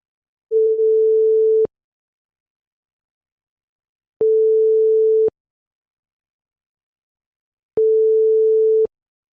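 Telephone tones heard while placing a sales call: three long, steady, loud beeps, each about a second long, separated by stretches of silence.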